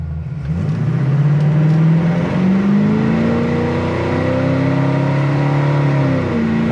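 A deep, rumbling 1972 Chevrolet Camaro RS engine revs up and accelerates, its pitch climbing steadily and then holding, loud and close with no talking.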